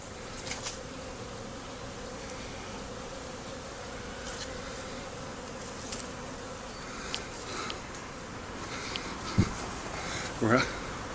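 Honey bees swarm around honey-covered beekeeping tools left outdoors during honey extraction, a steady dense buzz filling the air with a few louder passes close by.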